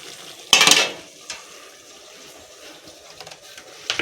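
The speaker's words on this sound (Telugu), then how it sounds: "ఇంకా టమాటాలు అయితే వేసి కొంచెం ఆయిల్ అయితే వేసి ఇంకొన్ని వాటర్ అయితే వేసి మగ్గనిస్తున్నానండి" Tomatoes with oil and water cooking down in a pan give a soft low simmer, with a few louder clattering stirs of a utensil against the pan near the start and again at the end.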